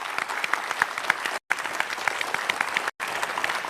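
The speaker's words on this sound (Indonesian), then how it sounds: "Ya, silakan tepuk tangan buat teman Anda." Studio audience at a Dr. Oz Indonesia taping claps for a friend picked from the crowd, a close, brisk patter of many hands broken by two abrupt gaps of silence.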